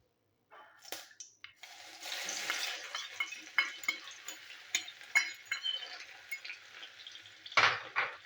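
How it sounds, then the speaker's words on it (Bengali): Chopped garlic sizzles loudly in hot oil in a pan while making egg tarka, with a steady crackling hiss, scattered utensil clinks and scraping stirs, and a louder burst near the end. "রসুনটা ভাজা হোক।"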